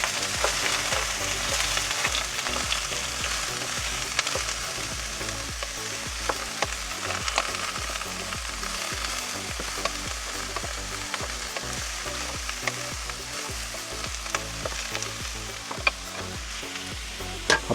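Fish and green beans frying in a pan with a continuous sizzle, punctuated by frequent sharp clicks and scrapes of stirring, with no talking.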